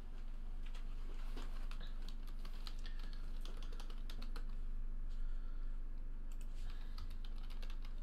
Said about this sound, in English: we'll need my keyboard to search up who has what player.